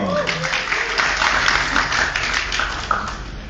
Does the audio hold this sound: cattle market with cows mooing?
no